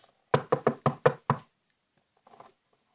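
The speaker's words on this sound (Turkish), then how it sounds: "Bak hala çalıyor kapıyı." Six quick, sharp knocks on a door ring out close and loud in a steady run, then a short burst of fainter knocking follows after a pause.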